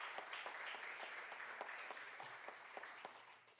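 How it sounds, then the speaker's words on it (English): Faint, distant applause fills the room at a 40 Under 40 awards gathering, a dense, even patter of many hands that holds steady for a few seconds with no voices over it. "Again, a big round of applause."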